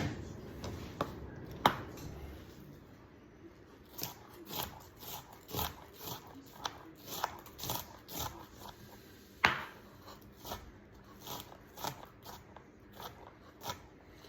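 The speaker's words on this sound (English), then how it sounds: "It ain't gotta be chopped up real fine. Just chop up enough." A knife chops onion on a board in quiet, uneven strikes, some single sharp knocks and some in quick runs, spread across the whole stretch with faint background noise between.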